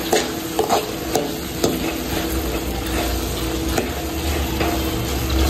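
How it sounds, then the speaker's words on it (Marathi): Soybean chili is stirred in a sizzling pan, with a spatula scraping and knocking against the metal over a constant hot frying hiss, loud and close throughout. "इथे मिक्स करून घ्यायचं सोयाबीन।"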